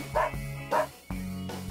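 A dog barks twice in quick succession, short sharp woofs close by over a low steady background hum, with no talk around them.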